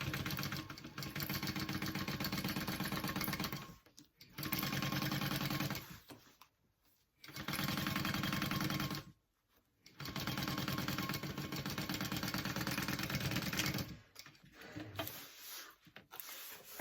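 Sewing machine stitching in several long bursts separated by brief pauses while basting a tote bag zipper and lining, a steady close mechanical whirr with no talking.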